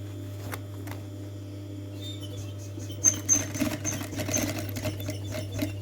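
Sewing machine stitching around the seam of a fabric handbag, starting with a steady low motor hum and giving way to a busier run of clattering needle strokes in short bursts, close up with no talking.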